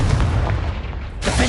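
Bombarda and Confringo spell blasts in Hogwarts Legacy, heavy rumbling booms that roll continuously with a fresh burst of blast noise near the end, loud and close.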